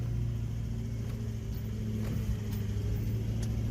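A 4WD vehicle crawls up a steep rainforest track in crawl mode in the Daintree, a low steady engine rumble with a few light knocks and clunks, close and continuous.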